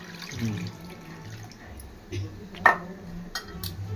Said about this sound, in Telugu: ఇదిగోండి చింతపండు రసం పోసేస్తున్నాను